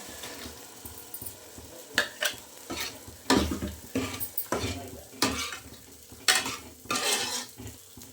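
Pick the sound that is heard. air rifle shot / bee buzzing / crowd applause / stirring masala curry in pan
stirring masala curry in pan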